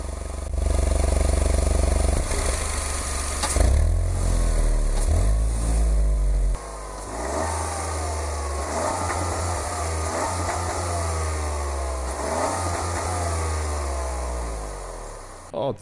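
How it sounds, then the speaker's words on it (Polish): A Renault Twingo GT's three-cylinder engine sounds through its twin exhaust pipes, a loud, raspy drone that rises and falls in pitch as the car accelerates and shifts gears, with faint talk over it. "Zwykłe pierdzenie 3-cylindrowej jednostki."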